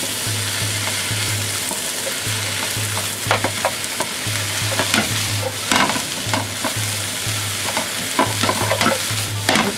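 Rice vermicelli (yaki bifun) is stir-fried and loosened in a pan, with a constant close sizzle broken by repeated scraping and tossing strokes of the spatula, no voices.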